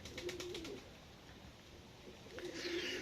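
Domestic pigeons kept in a cellar loft coo nearby in low, repeated rolling calls, with a brief higher flutter of bird sounds toward the end and no talking.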